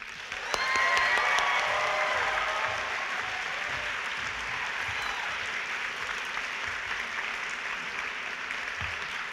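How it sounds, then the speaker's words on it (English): A crowd applauds a speaker at a small liberal arts college commencement. Loud, dense clapping swells at once, then settles into a steady, sustained ovation. "Everyone, please give a huge round of applause for Masha Gessen."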